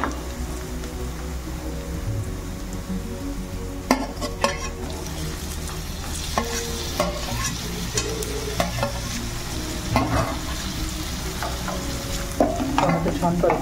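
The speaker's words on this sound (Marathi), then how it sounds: "टोमॅटो छान परतवून घ्यायचं आपल्याला।" Tomatoes and onion fry in a pan for an eggplant bharit, with a steady close sizzle and sharp scraping stirs of a spoon every few seconds throughout.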